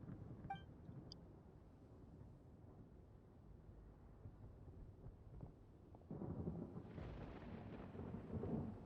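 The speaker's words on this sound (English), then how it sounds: "Wait, is there real thunder? Yeah, it's real thunder." Real thunder rumbles outside, a low, distant roll that swells and grows louder toward the end, over a steady background hiss.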